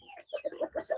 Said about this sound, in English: It's a native chicken here.